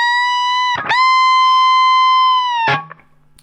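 Electric guitar playing a lick: a sustained, distorted note bent upward and held with heavy reverb, framed by picked attacks, then decaying into a low tail; loud and alone.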